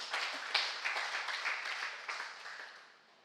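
A church congregation at a Sunday afternoon worship service claps together, and the broad, echoing patter fades away after about three seconds.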